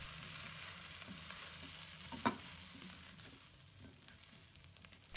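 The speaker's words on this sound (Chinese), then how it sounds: "继续把所有的食材翻炒均匀" Taro and rice are stir-fried with soy sauce, oyster sauce, salt and pepper, making a faint, continuous sizzle with one sharp utensil clink midway.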